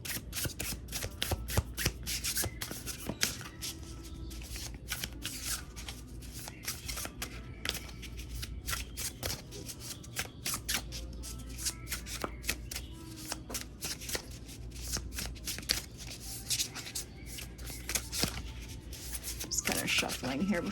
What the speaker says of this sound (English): Just kind of shuffling here before we get going.